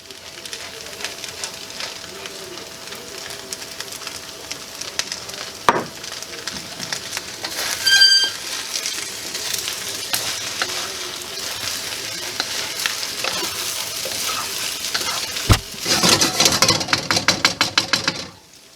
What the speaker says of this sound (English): now I'm going to add the egg